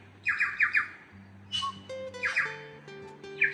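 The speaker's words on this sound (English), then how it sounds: "I wonder what bird that is." An unidentified bird calls in New Zealand beech forest along the Queen Charlotte Track, giving three bursts of harsh, rapid squawking notes that sound fairly close, with quieter tonal sounds in the background.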